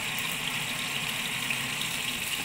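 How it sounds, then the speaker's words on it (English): Water pours steadily into a cooking pot of gravy, a continuous close gushing rush with no talk over it. "I think we need to add some more water here."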